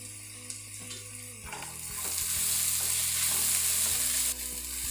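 Onion, ginger and curry leaves sauté in a hot pan for an egg pepper masala, a steady broadband sizzle that swells louder midway, with soft scraping stirs and a faint steady hum underneath.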